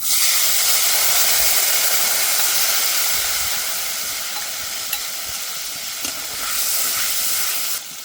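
Whole cumin seeds and whole dried red chillies hit hot oil for a dudh potol curry, a loud, close, steady hissing sizzle that eases slightly midway and then swells again, with no one speaking.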